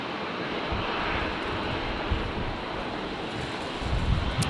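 A Qantas airliner arriving from Melbourne on runway 19 left at Brisbane Airport, a steady broadband engine roar mixed with gusting wind buffeting the microphone, fairly constant in level with slight swells near the end.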